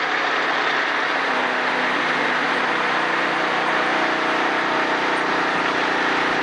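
Stock car engine on the oval at Charlotte Motor Speedway, heard from inside the car as a loud, steady, unbroken roar with no talk over it.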